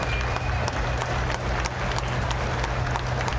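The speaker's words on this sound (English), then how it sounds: "let's give them a round of applause here" An audience at a county fair tractor pull claps in a sustained burst of applause over a low engine rumble.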